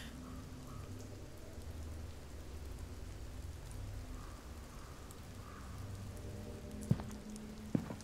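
Steady rain falls in the video game Ironbark Lookout, a dense, even hiss that never lets up, with two sharp knocks near the end.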